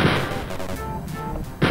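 Player's weapon firing in Wolfenstein 3D, a loud, steady rattle of rapid shots with a fresh burst at the end, no voices over it.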